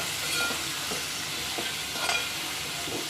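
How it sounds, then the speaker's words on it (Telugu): Brinjal chutney ingredients with salt stirred and cooking in a pan for Telugu vankaya pachadi, giving a steady soft sizzle with a few brief scraping stirs, close and alone without talk. "వేసుకొని కలిపి కొద్దిసేపు మగ్గనిద్దాం."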